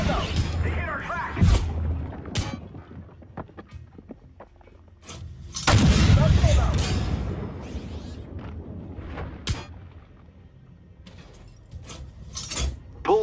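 Tank cannon fire and explosions in a video game featuring a Leopard 2A5 tank, with heavy booming blasts and rumbling impacts spread across the scene, separated by quieter stretches, mixed with radio-style voices.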